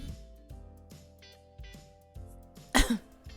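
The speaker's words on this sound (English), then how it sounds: "Sorry for coughing right into the microphone." One loud, sharp cough right up close, breaking over a quiet background with faint tapping sounds before it.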